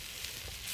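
Onions frying in a pan, a brief close hiss of sizzling fat.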